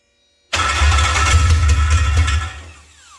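A Toyota MR2 with a swapped Honda K24 engine cranks in a loud, steady starter churn for about two seconds, nearly catching, then quickly fades out.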